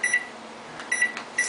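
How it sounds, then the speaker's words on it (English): A kitchen timer beeps in three quick bursts of rapid high-pitched chirps, evenly spaced, clear and close with nothing else around. "And we'll set our kitchen timer"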